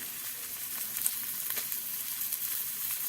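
Two center-cut loin pork chops in homemade barbecue sauce sizzle in a cast iron pan over medium-high heat, a steady, close hiss and crackle with faint pops, and no one speaking.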